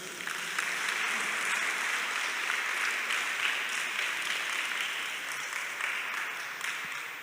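A crowd of schoolchildren at a formal gathering with Benin's president applauds the educators once more, producing a thick, even wash of clapping that continues without pause and fades only slightly at the close.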